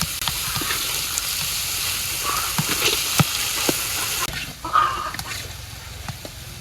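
Spice masala with turmeric and salt frying in a pan in a village kitchen, a steady sizzle with scattered stirring clicks and scrapes, a brief louder burst of frying partway through, and no talking.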